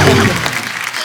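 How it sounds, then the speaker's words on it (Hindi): Studio audience applause on a comedy show, a brief burst of clapping that starts loud and fades quickly within about a second. "जोरदार तालियां होनी चाहिए जरा।"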